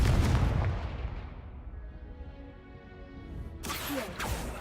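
Confringo explosive spell in the video game Hogwarts Legacy: a single booming blast at the start that rings out into a long, fading rumble, followed by another burst of game noise near the end.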